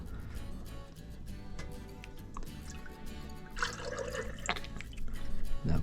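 Liquid rendered beef tallow poured in a slow, steady stream into a container, making a continuous soft trickling and dripping over a low rumble, with a few louder splashes toward the end.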